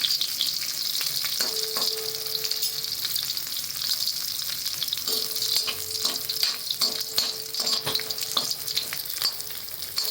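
Dried bombil fish frying in oil until lightly browned and crisp, a loud continuous close sizzle and crackle with occasional scraping stirs throughout.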